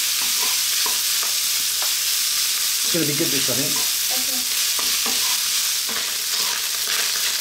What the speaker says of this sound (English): that's the rice that's frying as well, which is good